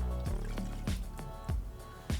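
Water poured in with yuzu ponzu and toasted marshmallow syrup for an agar mixture, a soft trickling, glugging liquid sound broken by several low plopping drips at a steady pace, close and quiet.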